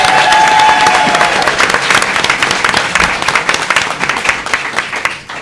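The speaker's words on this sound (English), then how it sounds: "we can give her a round of applause." A crowd claps loudly and enthusiastically at a congressional roundtable in Manteno, Illinois, dense applause that gradually thins and fades out.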